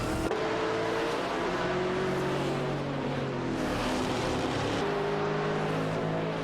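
Maserati MC12 GT1 race cars battle closely in a video game race, their engines whining and shifting pitch together in a continuous dense roar with overlapping revs.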